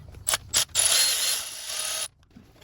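A socket ratchet loosening a clamp on a Toyota 2UZ-FE 4.7-liter V8 engine during timing belt work: two short clicking bursts, then a longer run of rapid ratcheting that stops abruptly, close and clear with no talking.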